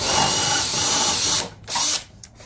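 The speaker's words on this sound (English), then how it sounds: "we're going to drill in here, and then we're going to glue it" A power drill bores a dowel hole into a cherry wood table during apron repair, whining loudly and steadily for about a second and a half, then dropping out briefly before a second short burst and a few fading taps.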